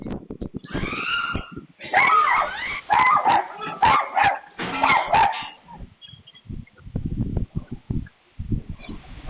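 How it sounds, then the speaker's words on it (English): A dog barks at a giant lizard, loud and close, with a run of sharp barks and yips followed by lower huffs and whimpers. "The dog understood the assignment and decided that it also included giant lizards."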